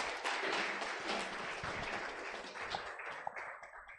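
An audience at an NGO symposium applauds the panel discussion panelists with a sustained wash of clapping that holds steady, then thins toward the end.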